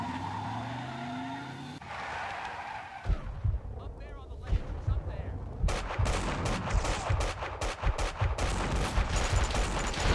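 Loud AK rifle bursts ring out in Max Payne 2 gameplay, with several rapid volleys growing denser toward the end, layered over game effects and a background hum.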